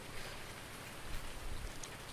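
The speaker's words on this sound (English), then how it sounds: "Oh, there's the rain. Well timed, so whoa, that's heavy." Heavy rain pouring down steadily on a building site at a farm, a dense continuous hiss of drops hitting surfaces at close range, with no voices.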